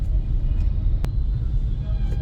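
Stalled road traffic in heavy rain in Bangalore gives off a deep, constant rumble of idling vehicle engines, loud and close, with a brief sharp noise partway through.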